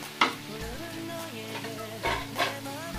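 Onion and tomato frying together in a pot, a low crackling sizzle beneath a spatula stirring and scraping, with a couple of sharper clinks, close by and without speech.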